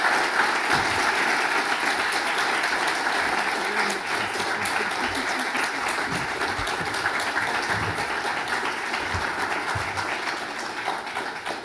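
Sustained audience applause for a visiting president after his talk on noncommunicable diseases, a large hall of dense, even clapping that holds steady for several seconds before easing slightly.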